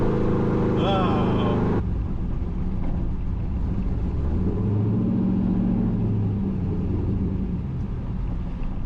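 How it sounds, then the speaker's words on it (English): A Pontiac Trans-Am WS6 V8 idles roughly and unevenly, a steady low rumble that runs through the whole stretch, with brief voices near the start. "As you can see, it doesn't want to idle very well, though."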